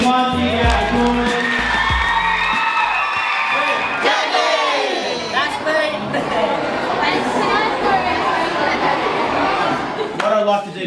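An audience at a Chifley College student program in Mt Druitt cheers, whoops and chatters loudly as students come up on stage, a dense continuous crowd roar lasting throughout.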